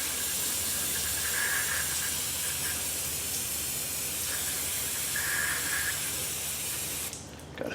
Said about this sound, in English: bust out some more brake parts cleaner and give it a good douche